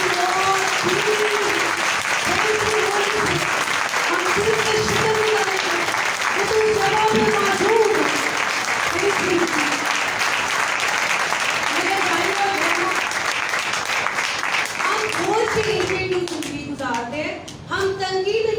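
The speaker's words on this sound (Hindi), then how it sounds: "हम खुदा के रूह के लिए जोरदार तालियां दें।" Church congregation at a Sunday service applauds loudly and steadily for the full stretch, dense clapping with some voices mixed in, easing off toward the end.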